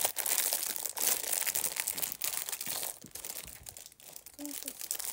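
Packaging for hair clips is crinkled and torn open close by in quick bursts of plastic rustling and crunching, with a brief voice near the end.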